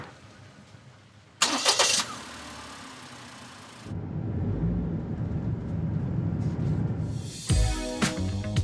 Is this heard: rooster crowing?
no